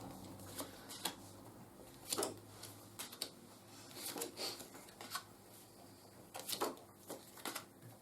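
A deck of board game cards for Dogs of War is shuffled by hand nearby, with repeated quick riffling and flicking bursts spaced irregularly over several seconds and no talk over them.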